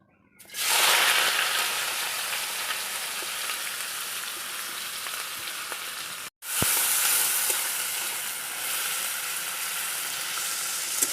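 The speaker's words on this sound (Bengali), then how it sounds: "এই পেঁয়াজটা এখন আমি তেলের মধ্যে দিয়ে দেবো" Onion drops into hot oil and breaks into a sudden loud sizzle that stays strong and steady, cuts out briefly, then resumes just as fierce.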